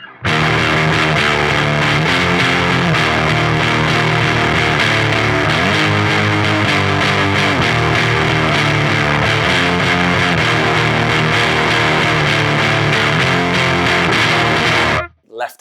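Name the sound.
distorted electric guitar through Holy Island Audio Tides pedal, no reverb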